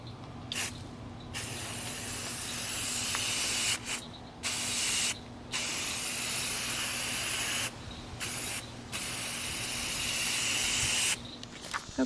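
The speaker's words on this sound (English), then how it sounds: "I'm going to spray paint them green." A spray can paints cut golf balls green, giving long loud hissing bursts broken by several brief pauses, close by and steady with a faint background hum.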